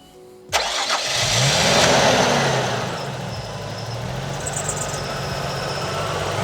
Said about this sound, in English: I'm going to start the car and we're going to see how it goes.